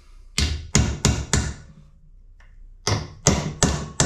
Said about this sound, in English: And you want the chisel nice and sharp so it gets underneath the rivet